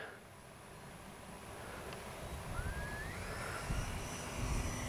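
FMS Rafale 80mm RC jet flying overhead outdoors, a steady broad ducted-fan whoosh with a faint rising whine, loud and continuous, swelling slightly as it passes without any voices.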